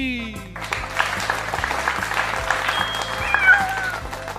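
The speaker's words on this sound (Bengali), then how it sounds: "সবাই একসাথে জোরে হাততালি দে তারপর দেখ মজা" Everyone in a cartoon claps hands loudly together, a dense burst of applause over a looping rhythmic background beat, with a cat's meow and cartoon voices mixed in.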